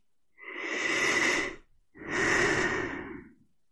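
Two deep, even breaths sound close and clear, each a long smooth rush of air lasting about a second, separated by a short quiet pause.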